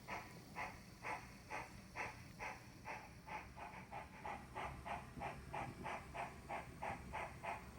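A steam locomotive labors uphill, its exhaust chuffing in a steady, quickening rhythm of hissing beats over a low rumble, heard from a moderate distance.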